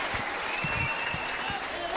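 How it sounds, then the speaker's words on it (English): Home crowd at a Trinity College vs Royal College schools rugby match applauding steadily, a dense wash of clapping that runs throughout while a commentator talks over it. "to the applause of the home crowd"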